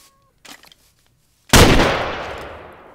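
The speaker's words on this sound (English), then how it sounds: "I did not know skeleton would use guns" A skeleton mob fires a gun in a modded Minecraft game: a single loud, sharp shot with a long decaying echo, after a few faint clicks.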